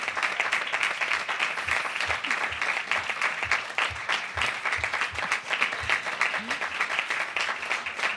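A conference audience at a session on financing the elimination of female genital mutilation gives sustained, even applause from a large crowd, steady and moderately distant.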